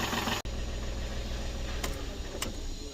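A Tata Tiago diesel engine idles steadily during an engine oil flush at a major service, a close, even low rumble broken by one brief dropout near the start and a couple of faint ticks later, with no voices.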